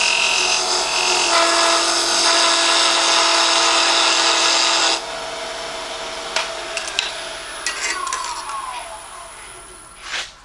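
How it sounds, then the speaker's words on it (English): A wooden tool handle spins on a lathe as a parting gouge cuts it, giving a loud continuous whine for several seconds before the cut stops, leaving a quieter motor hum with small taps and scrapes. "switch over to a parting gouge to get a little bit closer"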